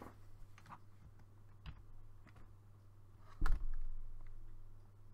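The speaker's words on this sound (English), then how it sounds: "Oh, so I've got to just use the keyboard." Sparse keystrokes on a computer keyboard while working in a bootleg Windows build: a few separate clicks spaced a second or so apart over a steady low electrical hum, with one louder knock near the end.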